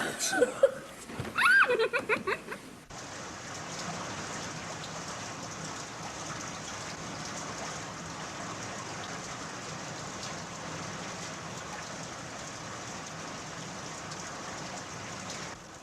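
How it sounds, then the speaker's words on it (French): Steady rain falling on a work site, a constant even hiss that fills the clip after a brief burst of laughter and talk at the start. "Avec la pluie qui tombe"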